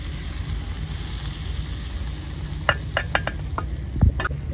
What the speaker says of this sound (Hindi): ये तड़के वाला सामान सारा हम इसके अंदर डालते हैं।